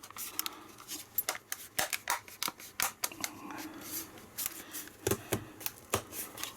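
The plastic back cover of a Kindle Fire 7 tablet snaps into place as fingers work around its edge, giving a rapid series of close, sharp clicks and scratchy scrapes in an irregular rhythm.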